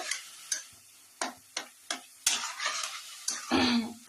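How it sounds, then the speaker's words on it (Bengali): Grated carrot sautéing in ghee makes a gentle sizzle under a run of spaced, crisp spoon taps and scrapes against the pan, fairly quiet and close, with no one speaking. "এই যে ঘি দিয়ে যে এই গাজরটাকে আমি এখন সাতলাচ্ছি"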